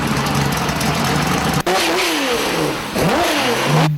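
A tuned Porsche flat-six engine revs hard and loud, its pitch sweeping up and down through repeated throttle blips with a brief cut in the middle, no talking.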